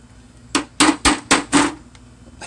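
Five quick, sharp hammer blows strike a Murray 17.5 hp tractor brake part in a close, evenly paced burst, followed by a faint lighter tap.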